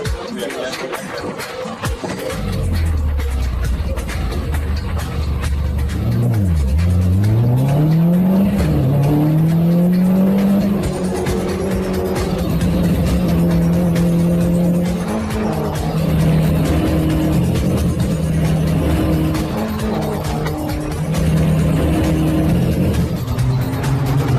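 Mini race cars roar around a circuit, engine notes climbing and dropping through gear changes as one spins out with a brief tire skid, loud and continuous for the whole stretch.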